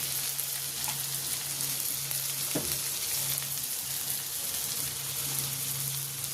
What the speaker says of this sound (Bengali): ভাজাগুলো ভেজে নিই